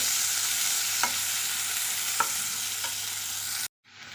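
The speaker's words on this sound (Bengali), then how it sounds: "এখন ওই তেলের মধ্যে দিচ্ছি পেঁয়াজ পেঁয়াজটা ভালো করে ভেজে নেব" Onion fries in hot oil with a constant bright sizzle, broken by a few soft spatula taps, before the sound briefly cuts out near the end.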